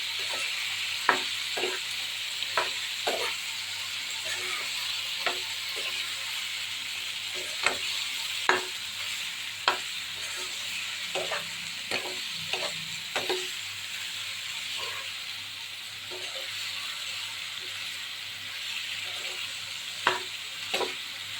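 Chicken gravy being fried and stirred in a pan, with a steady sizzle throughout and irregular clinks of a spoon against the pan, and no talk.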